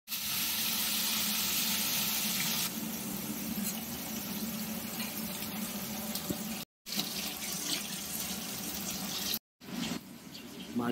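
Bata fish sizzling as they fry in hot mustard oil for a light curry, a loud, steady, close hiss that runs almost unbroken with two brief cuts near the end and no talk.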